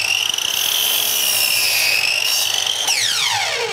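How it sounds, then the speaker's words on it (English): Rigmaster 10-inch compound mitre saw cutting wood, a loud high-pitched blade whine that bites through the timber, then sweeps sharply downward as the motor spins down after the cut. "I've got to say, Clive, when you go in with a saw like this, you're not there for very long."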